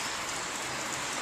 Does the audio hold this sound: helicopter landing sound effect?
no